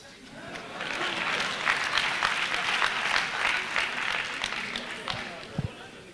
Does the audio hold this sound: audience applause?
yes